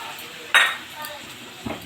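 A metal spoon scrapes and clinks against a pan while spices and red chilli powder are stirred together for a banana flower and prawn curry, with one sharp clatter and a softer knock near the end.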